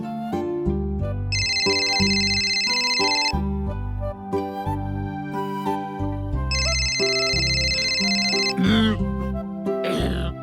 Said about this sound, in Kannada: ಆಗ್ಲಿಂದ ಫೋನ್ ಬಡ್ಕೋತಾ ಇದೆ